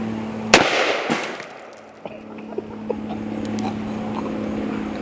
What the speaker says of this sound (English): Shoot through all of it.